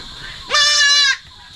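A goat on a Filipino farm gives a single loud, close, wavering bleat lasting about half a second, with quiet background before and after it.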